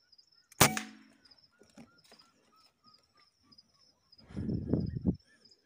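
A single sharp shotgun-style report cracks out close by during an outdoor dove hunt, decaying quickly, followed by faint birdsong and insect hum, then a rustling, thumping scuffle a few seconds later.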